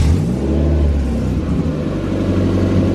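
A Toyota AE86 with a BEAMS engine swap runs loud and close, a steady low rumble settling into a smooth idle, with no voices over it.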